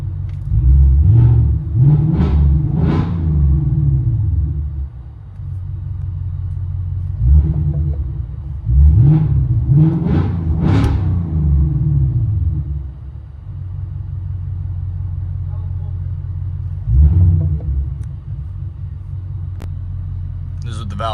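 Heard from inside the cabin, a 2024 Ford Mustang GT 5.0L V8 with Valvetronic Designs mufflers gives several loud rumbling revs in clusters, dropping back to a low idle rumble between them.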